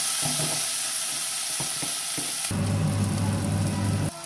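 Onion, tomato and garlic are stirred and sautéed in a pan for a Bolognese sauce. A few scrapes and taps come first, then a loud, steady sizzle that swells near the end with no voices.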